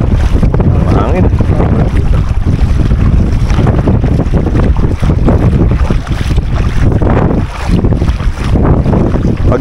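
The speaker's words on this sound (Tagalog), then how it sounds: "Mahangin." Strong sea wind buffets the microphone continuously while fishing in the water at Al Khor, a loud, dense roar with waves churning underneath and no pauses.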